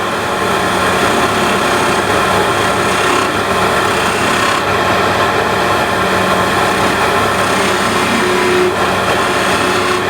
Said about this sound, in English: First I'll drill the hole here on the bottom of the beads.